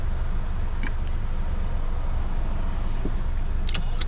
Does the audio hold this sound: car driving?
yes